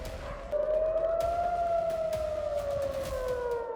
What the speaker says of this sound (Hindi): इजराइल में शुक्रवार से अब तक कई बार एयर अलर्ट का सायरन बज चुका है।